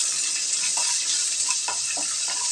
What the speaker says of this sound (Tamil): இப்போ கடுகு வெடிச்சிருச்சு பாருங்கள்.